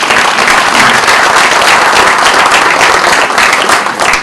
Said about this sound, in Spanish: Doctor Tarrufo, le recibimos con un fuerte aplauso.